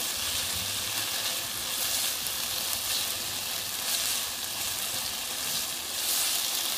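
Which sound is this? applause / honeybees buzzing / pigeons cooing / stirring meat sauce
stirring meat sauce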